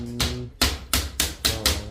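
Nails are hammered by hand, with six sharp, evenly spaced blows in quick succession, loud and close, with no talk.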